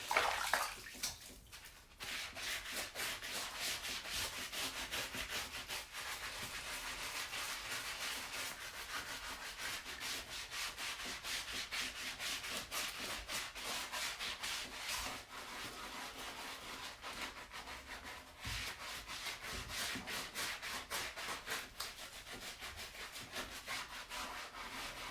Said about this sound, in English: I think I'll rub the scrubber.